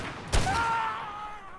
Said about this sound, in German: Richtig krasse, komische Explosion.